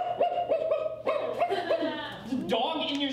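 Dog yips and barks during a live comedy show, a rapid series of short, pitched calls in quick succession, then a longer rising whine, fairly loud and close with room murmur behind.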